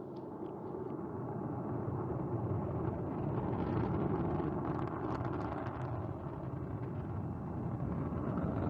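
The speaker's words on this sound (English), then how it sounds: "Turbo pumps at flight speed and liftoff." A Soyuz rocket lifts off from Baikonur carrying an empty capsule toward the International Space Station, a sustained distant rumbling roar with crackle that swells and holds steady for several seconds.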